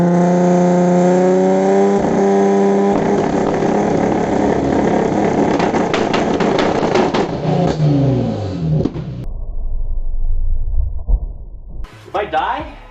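Car with a modified exhaust revved hard in place, a loud steady high-rpm drone holding for several seconds before cutting off, followed by lower rumbling, clatter and people talking nearby.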